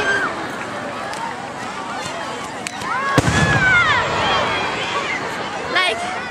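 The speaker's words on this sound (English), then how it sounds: "there's fireworks at the moment" Fireworks bursting and crackling nearby at a Japanese summer festival, with a sharp loud boom midway amid crowd noise and excited voices.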